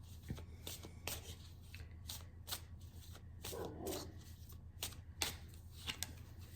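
Oracle cards being shuffled by hand in a quiet room: soft, repeated riffling flicks and papery slaps in an irregular rhythm, close and faint, with no talking.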